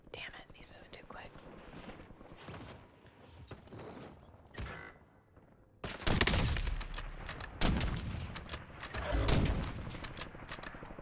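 Gunfire from a Call of Duty Black Ops 6 multiplayer match crackles in bursts, growing louder and denser halfway through, mixed with game effects and a low voice.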